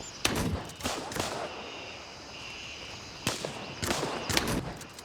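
Gunshots in the night-ops video game Gray Zone Warfare come in short bursts of sharp cracks, a cluster at the start and another near the end, with quieter ambient noise between.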